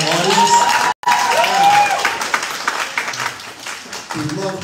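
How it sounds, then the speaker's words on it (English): An audience at a school steel band concert applauds and cheers in a dense, sustained wash of clapping, with a voice calling out over it and the applause tapering slightly before swelling again at the end. "give them some applause for being such a phenomenal audience"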